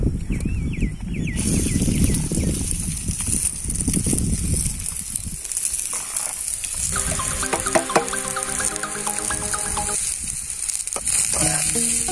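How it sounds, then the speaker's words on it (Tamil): Onions, capsicum and green chillies sautéing in a hot pan for egg paniyaram, a steady close sizzle with faint stirring, while a background sound with a clear pitched pattern plays over the second half. "முட்டை பணியாரத்துக்கு வெங்காயம், குடமிளகா, பச்சை மிளகா வதக்குறோம்."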